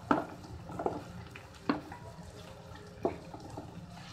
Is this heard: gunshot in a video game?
no